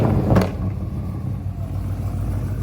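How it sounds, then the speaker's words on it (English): A supercharged 6.2 liter Hemi car fires up at a drag strip, a sharp burst of cranking and catch at the start settling into a deep, lumpy idle rumble that stays close and steady. "He closed the lid, he's about to start the car and take it onto the drag strip."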